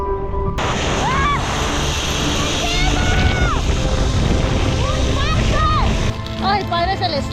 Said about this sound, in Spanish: Ya vamos en el río, gente.